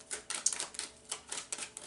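Tarot cards being shuffled by hand, a quick series of papery riffling bursts in an uneven rhythm, close and clear with no voice.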